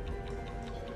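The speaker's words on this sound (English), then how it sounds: "Now that's the sound of a blast cap I stuck to the other side." Steady quiet ticking of a blast cap repeats about every fifth of a second over a low background hum.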